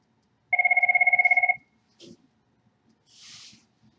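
A telephone rings with one rapid trilling burst of about a second, loud and clear in a quiet room during a recorded history lecture, followed by small handling noises.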